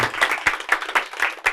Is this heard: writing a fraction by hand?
no